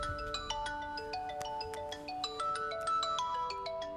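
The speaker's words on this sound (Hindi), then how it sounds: "और तभी एक नंबर से मुझे वीडियो कॉल आया।" A melodic phone ringtone for an incoming video call plays as a film sound effect, a bright repeating electronic tune of stepped notes, clear and alone without talk.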